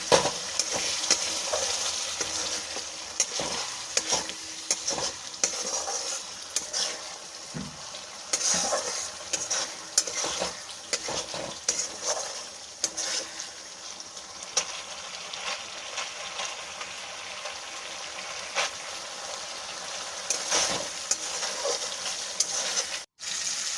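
Spice paste for matar paneer stir-fried in a pan, with spoonfuls of water added now and then to stop it sticking: continuous sizzling broken by irregular scraping stirs and bursts of louder spitting as the water hits the oil.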